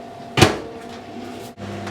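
A microwave oven door opens with a single sharp click and thump, followed by a low hum and a softer second click, in a kitchen where chocolate is being melted.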